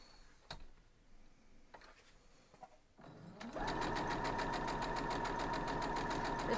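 A sewing machine stitches pieces of a wild goose chase quilt block. A few soft handling clicks come first, then the motor starts and runs a fast, even, loud mechanical whir to the end.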